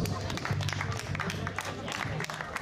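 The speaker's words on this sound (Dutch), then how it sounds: "Applaus voor de overwinnaar van het eindklassement bij de Fun A, Robin Perters." Applause for the overall winner of the Fun A class at a 2011 Flanders Cup prize ceremony in Beringen, a steady crowd of clapping hands filling the moment with a low hum of chatter beneath.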